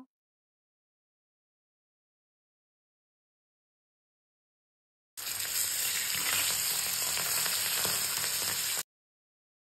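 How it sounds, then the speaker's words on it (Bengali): Hilsa fish frying in a pan, a dense, steady sizzle that starts abruptly after silence, close and loud, lasting a few seconds with no talk. "এখন দিয়ে দিব ইলিশ মাছটা ভাজার জন্য"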